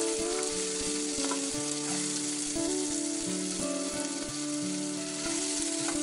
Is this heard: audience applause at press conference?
no